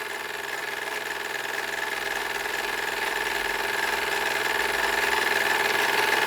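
A Bowman model steam engine drives a small generator on a bench, making a steady, close, whirring mechanical hum with a faint high whine that grows slightly louder as the speed climbs.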